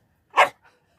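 A dog gives a single sharp bark close by, followed by a faint softer yip, in an otherwise quiet indoor space.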